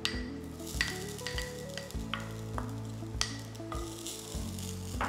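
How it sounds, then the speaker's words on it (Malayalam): Half a cup of grated coconut roasts in a hot pan, giving a soft steady sizzle broken by frequent stirring scrapes and light taps of the spatula against the pan. "പാൻ നന്നായിട്ട് ചൂടായി ഇതിലേക്ക് തേങ്ങ"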